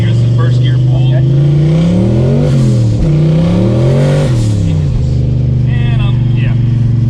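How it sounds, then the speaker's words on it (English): A turbocharged 1986 Ford Mustang accelerates hard through a first gear pull, its engine note rising, dipping at a shift and climbing again, loud from inside the car, with people talking over it. "Do a short run here. This is first gear pull."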